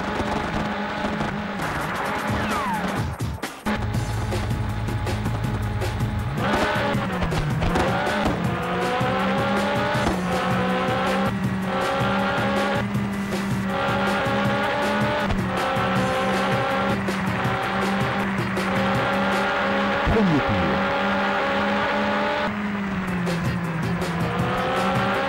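GT2 race cars in the PlayStation racing game 24 Heures du Mans roar steadily at close range, with engine tones rising and falling, passing cars, tire squeals and skids, and no talk.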